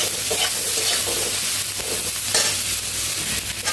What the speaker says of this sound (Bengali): এবার আলুটাকে পেঁয়াজের সাথে একটু লালচে করে ভেজে নেব